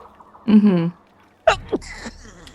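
A single abrupt sneeze bursts out nearby, followed by a brief sharp breath, with a short voiced sound just before it.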